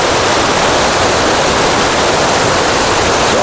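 Yethipothala waterfall near Zaheerabad, set among hills, roars as a loud, dense, unbroken rush of falling water, close and with no voices.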